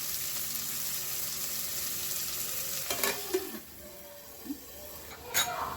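Onions frying in a pan for mutton curry make a steady, close sizzle, with a few soft stirring scrapes and clinks toward the end.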